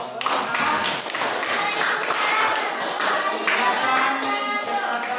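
Classroom applause, a dense burst of many hands clapping that keeps up steadily for several seconds, with voices mixed in.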